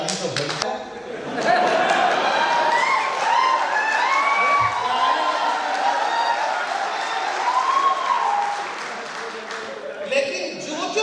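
An event audience in a hall breaks into loud sustained clapping and cheering, swelling after a brief spoken cue and holding for several seconds with shouts mixed in, then tapering as talk resumes.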